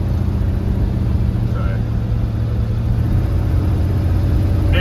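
Old Ford F100 truck engine running on a road drive, a steady loud low rumble heard from inside the cab throughout, with no change in pace.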